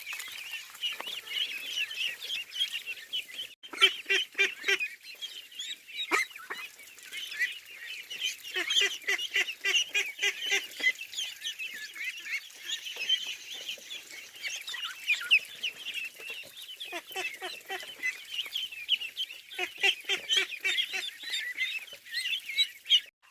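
A flock of ducks on a farm among areca nut palms quacks in repeated bursts, loud harsh calls coming in clusters with short pauses, close and continuous, with no voices.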